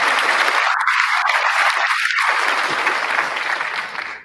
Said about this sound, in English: Fake applause.